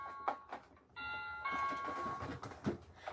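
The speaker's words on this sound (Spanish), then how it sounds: "Tocaron el timbre de la puerta" A doorbell rings inside a home, its clear chime tones sounding twice in a row with a short gap, close and alone with no talk.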